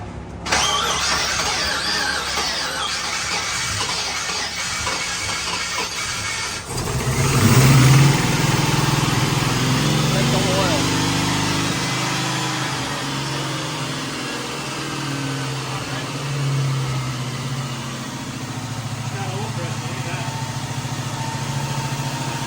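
A 1969 Camaro with a freshly swapped engine sits quietly at first, then cranks and fires up around the seven-second mark. It settles into a steady, close idle with no talking.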